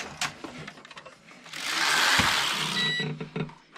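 The carriage of a Passap E6000 knitting machine sweeps across the needle bed casting on, a close whirring, rattling slide of about a second and a half, framed by sharp clicks and clacks.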